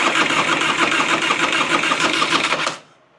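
A Harley-Davidson FXR engine is cranked by its electric starter, a loud, close, rhythmic whirring churn lasting under three seconds that cuts off abruptly without firing, leaving near silence.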